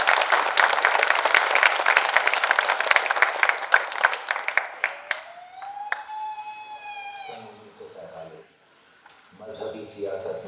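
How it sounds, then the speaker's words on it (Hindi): Loud audience applause at a stage performance, dense clapping for about five seconds that fades out, followed by a rising siren-like musical tone and sparse instrumental sounds. "आपकी जोरदार तालियों के साथ।"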